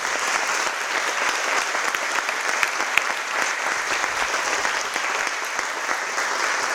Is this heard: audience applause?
yes